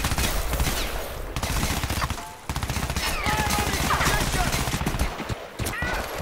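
Gunfire in the shooter game Crysis 3: dense, rapid bursts of shots rattle almost without pause, close and loud, with a brief lull midway, while a voice talks over it.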